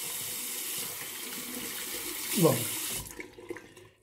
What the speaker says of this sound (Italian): io lo risciacquo rapidissimamente, anche se molti lo sconsigliano con acqua fredda